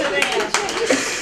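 Wedding guests clap during a prize-giving at a celebration, a short burst of applause with several sharper claps, while a voice talks over it.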